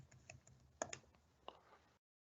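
Several quick computer keyboard keystrokes as a password is typed, a few soft, sparse clicks close to the mic over quiet room hiss, with no talking.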